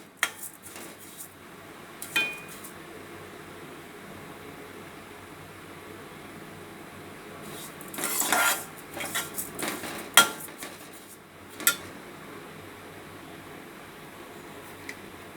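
Sesame seeds dry-roasted in a pan without ghee and stirred with a utensil, giving sporadic scraping and clinks of metal on the pan over a quiet background hum, with a busier burst in the middle.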